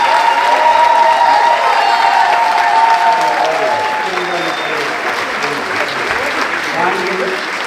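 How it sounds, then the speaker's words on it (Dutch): An audience applauds percussionist Vernon Chatlein at a recognition ceremony, a dense, steady clapping that holds loud for several seconds before easing slightly, with some crowd murmur mixed in. "nogmaals een applaus voor Vernon"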